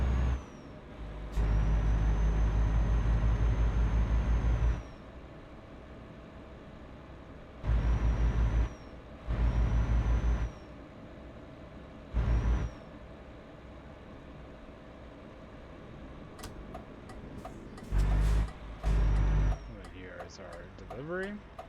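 Volvo truck air brakes in Euro Truck Simulator 2: several loud, sharp hissing bursts of released air, each lasting a second or more, recurring at irregular intervals over a low idling engine drone, with faint beeps near the end.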